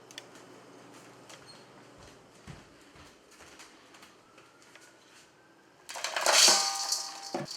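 Home-made granola, freshly baked with oil, tipped out of a pan into a bowl, giving a loud, dense clatter and rustle of loose clusters near the end after quieter kitchen handling sounds.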